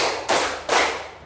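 Students in an Indonesian classroom clap together on a counted cue, giving two crisp, loud bursts of group clapping roughly half a second apart, each fading quickly.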